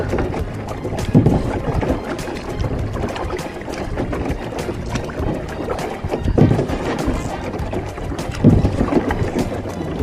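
Wind roaring across an open microphone while kayaking near a fishing island, a steady rough rush with gusty swells, mixed with water sloshing and paddle knocks.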